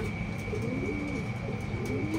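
Racing pigeons land at a loft in Paete, Laguna, after a 63 km club training flight. Soft, repeated cooing sits over a faint, steady background hum.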